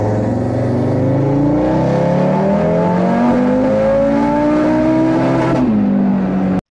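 An Audi RS3 fitted with a TTE throttle body inlet and TiAL blow-off valve revs through a test run, engine pitch climbing steadily and loudly for several seconds before a sharp drop as the throttle closes near the end.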